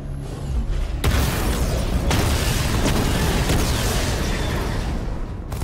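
Missile barrage explosions destroying targets in the Batman Arkham Knight game, a sustained roar of heavy booms and rumbling blasts that starts abruptly and continues densely with repeated impacts, loud and close.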